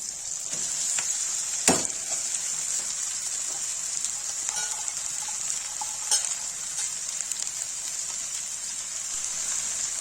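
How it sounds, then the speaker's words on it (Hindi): Chopped onion and cumin seeds frying in a pan, a steady close sizzle with a bright crackling hiss throughout and a couple of sharper pops, no voices. "जीरा डाल दिया, गाइस प्याज डाल दिया, प्याज भून रहा है।"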